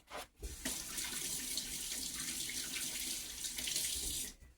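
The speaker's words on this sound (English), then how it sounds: "rinse my hands off here." Hands are rinsed under a running kitchen tap, water splashing steadily into the sink after a brief start, then cutting off at the end.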